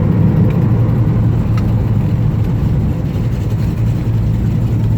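A 1969 Dodge Coronet Super Bee with manual steering and brakes cruises along a road, its engine a loud, deep, steady rumble heard close up from inside the car.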